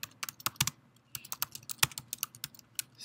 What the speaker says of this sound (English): So all you're going to do is type in South Carolina